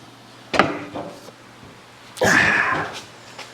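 A KAKA W4812 industrial box pan brake bends thick sheet metal while pushed beyond its rated maximum, giving two loud, separate metallic thunks about one and a half seconds apart, each fading into a quiet workshop.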